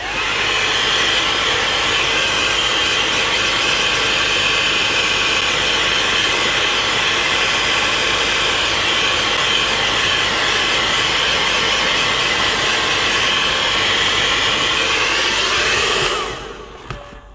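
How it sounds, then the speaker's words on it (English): A hair dryer blows steadily and loudly on fresh paint on a GameCube part for about sixteen seconds, then shuts off abruptly, leaving near silence. "I'm hitting it with the hairdryer."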